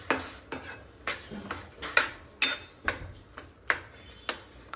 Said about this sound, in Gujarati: એને ખાલી હલાવી દેવાનું